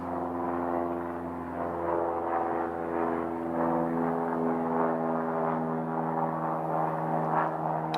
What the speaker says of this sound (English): This looks like one of the flight school aircraft, if I'm not mistaken.